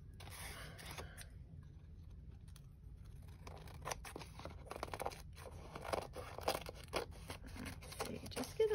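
Scissors cut through paper in a mixed-media art journal, with quiet snipping and scraping that grows busier and louder toward the end, close up, with no talk.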